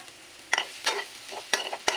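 Ground pork sizzles in a frying pan as a spatula scrapes and stirs it, making several distinct scraping strokes over a soft, steady frying hiss, close by and with no talking.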